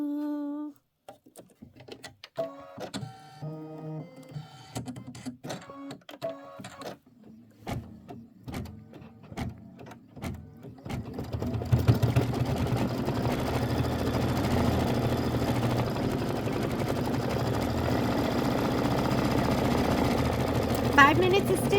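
An embroidery machine works a Kimberbell Pumpkins & Potions Halloween design, starting with a few beeps and scattered mechanical clicks, then settling into a steady, close, rattling hum of continuous stitching.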